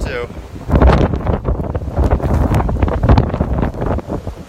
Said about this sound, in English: You can see the wind really whipping across it.